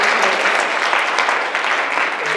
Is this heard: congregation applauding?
yes